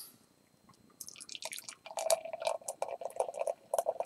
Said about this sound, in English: just pour it into the glass.